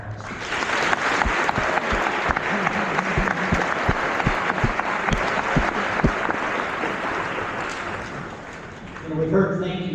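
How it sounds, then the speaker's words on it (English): Sustained applause from a sizable audience at a Veterans Day event, with a few sharp individual claps standing out near the front before it fades and a voice begins. "let's give them another round of applause."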